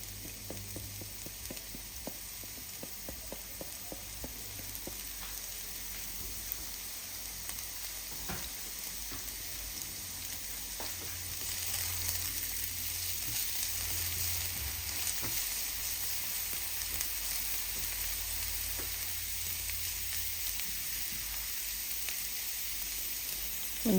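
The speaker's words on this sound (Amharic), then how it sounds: "እንደዚህ ቡናማ ከለር እስከሚይዝልን ጥብስ እናደርገዋለን።" Chopped onions fry in a pan with a continuous soft sizzle and scattered crackles that grow a little louder partway through, with no voices.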